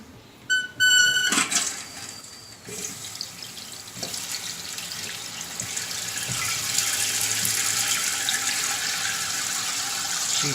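Water rushes from the supply into a Mansfield toilet tank after a repaired fill valve is turned on. A few clicks come first, then a steady hiss of filling builds and holds loud and close.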